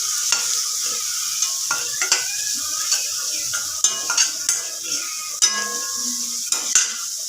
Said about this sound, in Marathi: मग आपण हे जे वाटण वाटलं होतं ते टाकूया त्याच्याबरोबर